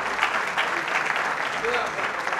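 Audience applause and cheering at a Honduran presidential debate held at the Universidad de San Pedro Sula, a dense, loud clapping roar filling the short span, with a voice faintly present underneath.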